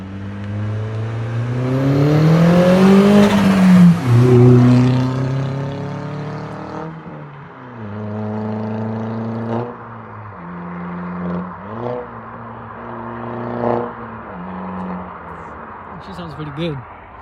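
An Audi A4 with its muffler removed revs loudly with a rising, raspy drone, then settles into repeated throttle blips and a rumbling idle as it pulls away, with voices talking over the engine.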